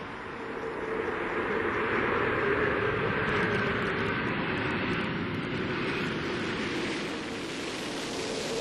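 Space Shuttle Endeavour on landing approach with its gear down and locked, a loud, steady broadband roar of rushing air and engine-like noise that swells slightly and holds throughout, with no talking.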